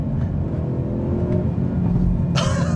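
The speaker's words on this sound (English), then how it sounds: "I also love the active rev match function" A 2025 Volkswagen GTI or 2025 Hyundai Elantra N engine hums steadily, then gives a sharp, brief active rev-match blip near the end, close and loud.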